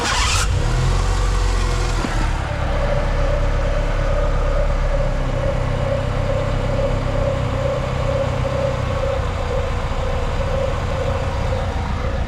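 A turbocharged Honda CRX engine catches with a sharp burst and then settles into a steady, close, rumbling idle with a faint whine on top, running alone without talk.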